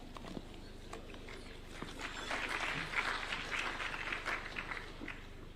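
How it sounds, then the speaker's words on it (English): Audience applause following a scripture reading by a governor at a national event at Safari Park Hotel, a crowd clapping steadily, swelling in the middle and holding at moderate volume without speech. "A round of applause again to Honorable Governor Waiguru."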